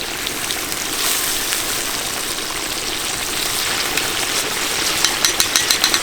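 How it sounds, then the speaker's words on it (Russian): Boiling water poured into a pan of frying kuyrdak with potatoes, a loud steady rushing hiss and sizzle that grows slightly, ending in a series of quick rhythmic taps. "Наливаем кипяток."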